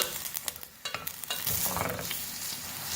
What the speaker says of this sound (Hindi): प्याज को हम मीडियम फ्लेम पर फ्राई कर रहे हैं।